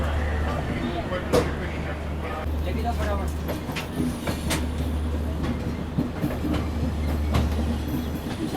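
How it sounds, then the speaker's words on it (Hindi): A DMU train crossing on the adjacent track near Jaipur Junction, heard as a steady low engine drone with wheel clatter and occasional squeal, while someone talks throughout. "अभी देखो सामने से ये DMU ट्रेन क्रॉस हो रही है"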